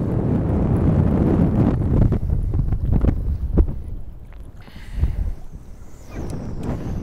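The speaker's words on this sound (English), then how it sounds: "the wind is whipping out here" Wind blowing hard on a lake during fall bass fishing, a loud steady rumble of gusts buffeting the microphone, broken by a few knocks and thumps.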